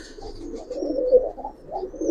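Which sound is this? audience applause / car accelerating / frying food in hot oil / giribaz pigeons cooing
giribaz pigeons cooing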